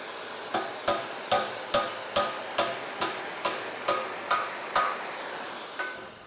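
Hammer blows strike 1/4 inch thick steel flat stock to bend it, a dozen sharp ringing metallic hits at a steady, roughly half-second rhythm, close and alone without talk.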